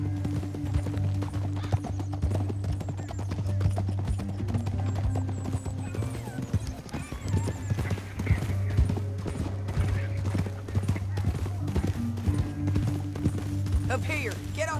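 Horse hooves clip-clopping in the Red Dead Redemption 2 video game, a steady rhythmic trot running throughout beneath a continuous low musical drone, with voices talking over it.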